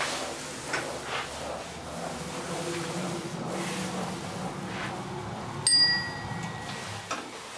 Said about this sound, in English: That's a nice bell.